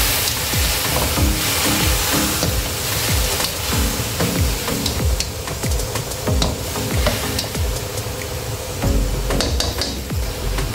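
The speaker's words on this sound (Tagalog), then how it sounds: "igigisa ko lang muna itong ating mushroom" Mushrooms saute in a pan with steady close sizzling, cut by repeated scraping and clinking of a utensil stirring against the metal.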